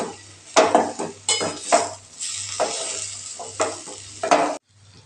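Vegetables stirred and sautéed in a pan: repeated scraping strokes of a utensil against the metal over a continuous sizzle and a low background hum, close and fairly loud.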